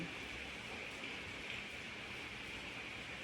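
Steady, dense rain hisses without pause, a constant wash of falling water with no voices.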